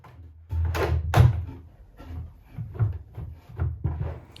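A heavy pull-out drawer for a van-conversion toilet slides out and back on sturdy drawer runners, giving several close rumbling slides with soft knocks at the ends of travel, with no talk.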